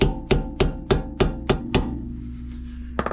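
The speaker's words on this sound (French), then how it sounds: "Avec le marteau, je vais venir taper dessus." During a brake pad replacement on a Peugeot 1.6 HDi, a hammer strikes a 15 mm wrench seven times in a steady, evenly spaced rhythm of sharp metallic taps, then gives one more tap after a pause.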